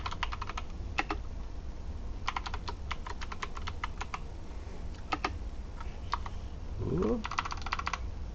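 Hunt-and-peck typing on a computer keyboard, with clusters of sharp close key clicks separated by pauses over a steady room hum, and a brief voiced exclamation near the end.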